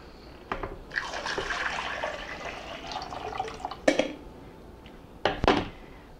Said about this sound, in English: which I'm just going to go ahead and pour into my coffee pot.